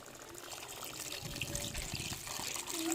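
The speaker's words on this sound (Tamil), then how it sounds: "தேனை தண்ணி ஊற்றி கிண்டி விட்டுக்கிறோங்க" Water trickles quietly into a pot of stingray fish curry with ground coconut and salt, then the mixture is stirred, soft splashing and low scraping sounds close by over about three seconds.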